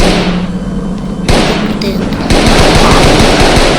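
Gunfire in a zombie-themed video game, loud and rapid with a burst of automatic fire followed by dense, continuous shooting and thuds, close and dominant.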